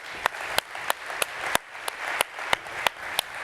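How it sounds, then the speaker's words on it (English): An audience applauds for Peter: a continuous wash of clapping with sharp, regularly spaced individual claps standing out close by, moderately quiet and steady throughout. "Can we just give Peter a round of applause?"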